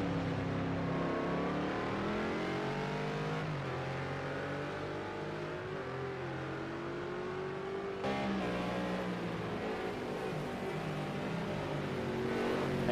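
McLaren GT3 race car in a video game at Zhuhai International Circuit, engine note climbing steadily through the gears with a brief shift dip, a continuous loud revving drone accelerating down a straight.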